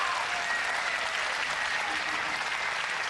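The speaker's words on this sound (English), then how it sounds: "an applause for Alliance" Steady audience applause for esports team Alliance at a League of Legends LCS promotion match, a dense continuous wash of clapping heard at a moderate distance.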